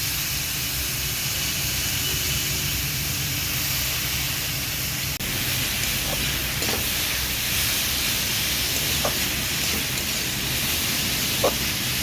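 Gima greens sizzle as they fry in a pan with salt and turmeric, giving a steady hiss and crackle that carries on throughout at an even level.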